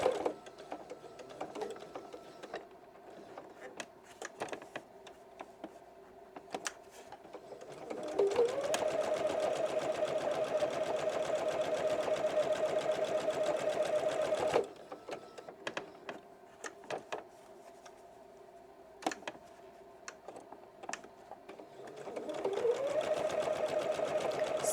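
A sewing machine top stitches a fabric bookmark, running in steady rapid bursts of stitching, with quieter pauses and faint handling sounds between two longer sustained runs, close up.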